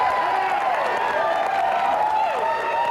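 A large crowd of striking state union workers cheering and whooping excitedly, a dense continuous roar of many voices with shouts rising out of it.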